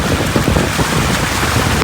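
Steady rain falls in Patan, a dense, loud, even patter of drops on surfaces with no break and no voices.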